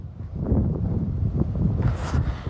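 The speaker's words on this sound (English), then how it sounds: "Nothing but wind, man." Wind buffets a microphone outdoors during a run, a heavy low rumble that rises and falls throughout, with a brief sharper gust near the end and no speech.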